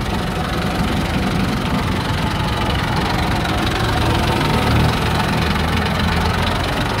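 A 1998 Massey Ferguson 240 tractor with a Perkins engine idles steadily at close range, a continuous low rumble with a faint knocking texture and no voices.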